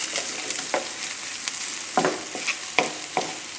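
Salmon frying in a pan for a mushroom omelette, a continuous bright sizzle with a series of light scraping taps spread through it.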